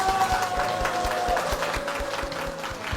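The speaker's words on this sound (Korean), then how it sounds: "담임 목사님과 교회를 위해서 힘찬 박수 부탁드리겠습니다" A church congregation at Suyu Jungang Church breaks into vigorous applause, dense clapping filling the hall with a steady rhythm throughout.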